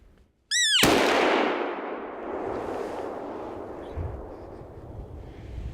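A single sharp rifle shot fired at a bull elk during a Michigan elk hunt, a loud close crack that rolls into a long fading echo across open country, following a brief whistled or squealing call.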